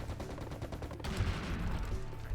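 Sniper rifle shot in the first-person shooter Serious Sam HD, a single sharp blast about halfway through with a rumbling tail, heard over game background noise.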